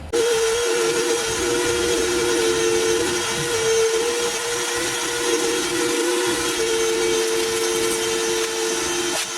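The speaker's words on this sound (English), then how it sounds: "bust the vacuum out and get all the, you know, all the trash and stuff out of this car, vacuum it really good." A vacuum cleaner sucking trash out of a Mustang drift car's interior, with a loud, steady, droning whine that holds unbroken throughout, close and alone.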